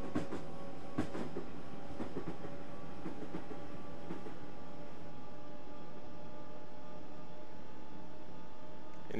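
Commuter train running in Train Simulator 2014 on the London to Brighton route, a steady rumble and hiss of the moving train with faint rhythmic rail clicks early on, continuous and fairly quiet, with no talking.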